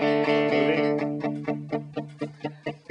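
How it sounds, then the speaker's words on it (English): A palm-muted electric guitar repeats a steady run of chugging notes as the palm slides from off the saddle onto it, starting ringing and bright and turning tighter and more damped, played alone. "I'll start where my palm is actually off of the saddle, and I'll move it to on"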